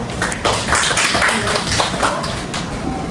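A classroom of students clapping together for themselves, a dense, steady patter of hands lasting about three seconds at moderate loudness with a little background chatter.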